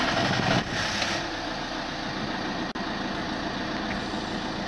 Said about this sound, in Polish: Teraz uruchomię silnik.